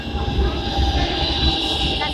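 A metro train rumbles loudly into an underground station, with a heavy, steady roar, rhythmic wheel clatter and some high metallic hiss, filling the platform without pause.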